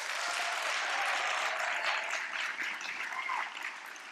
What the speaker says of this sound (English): Let's give some applause to that person.